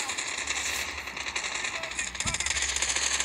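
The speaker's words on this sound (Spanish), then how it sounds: "Uy, están disparando." Rapid bursts of Call of Duty Mobile gunfire crackle steadily over an electronic background hum, with a brief louder thump near the end.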